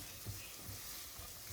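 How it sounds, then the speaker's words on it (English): Onions and bacon sauté in an Instant Pot, giving a soft, continuous sizzle with faint stirring bumps, quiet and close, with no talking. "we're just going to saute this until the onions get softened and the bacon releases its aroma"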